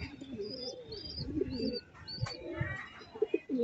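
Birds and pigeons in a coop coo and chirp steadily at close range, with soft calls layered over rustling and a few sharper tweets.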